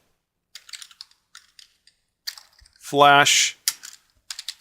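Typing on a computer keyboard while entering a title in Photoshop's type tool: close, light key taps in short irregular bursts, broken by a brief loud burst of another sound midway.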